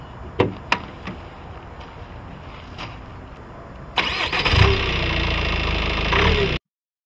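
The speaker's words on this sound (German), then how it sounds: "Der 2 Liter TDCi Turbomotor leistet 136 kW, 185 PS." A Ford Focus ST five-door with a 2.0-litre TDCi turbodiesel cranks and fires up loudly after a few quiet clicks, then settles into a steady, close diesel idle before cutting off abruptly.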